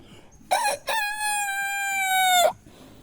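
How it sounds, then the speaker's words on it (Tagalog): A rooster lets out a single loud, drawn-out crow close by on Mt. Mapalad, lasting about two seconds against quiet surroundings. "May manok."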